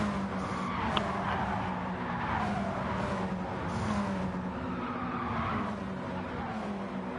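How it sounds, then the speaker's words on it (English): Racing car tyres squeal steadily through a corner in a sim racing game, with the sustained screech riding over the droning engine note of the car. "Oh, you can hear those tyres working."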